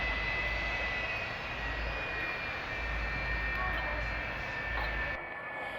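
A jet-powered semi truck engine spools up into a steady, loud roaring whine with a high pitched tone riding on top, continuous and close, easing slightly near the end.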